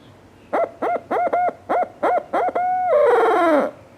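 Owl hooting imitated by a person blowing through cupped hands as a turkey locator call, an 8-note hoot: a series of short, evenly spaced hoots closing in a longer, drawn-out wavering note, clear and close.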